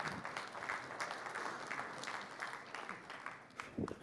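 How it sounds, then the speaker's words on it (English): A conference audience applauds a speaker being introduced on stage; a faint, continuous patter of many hands clapping runs throughout, sounding distant and soft. "let's give him a big round of applause."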